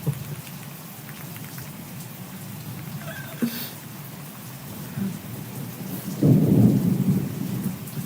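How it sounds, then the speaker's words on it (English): Thunderstorm heard from an enclosed porch wrapped in tarps, with steady rain hissing throughout and a deep rumble of thunder swelling up near the end, with no one talking. "Yeah, it's a thunderstorm, alright."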